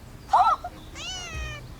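A shaved cat meows twice up close, a short bright mew followed by a longer, drawn-out wavering meow over quiet background.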